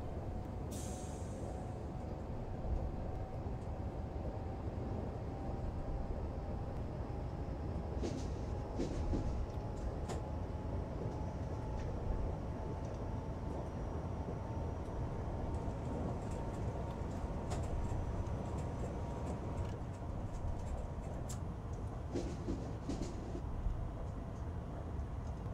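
A TER train in Train Simulator runs at 100 km/h on the Calais–Boulogne line, a steady low rumbling drone with faint scattered clicks and a slowly rising tone, heard alone at modest volume.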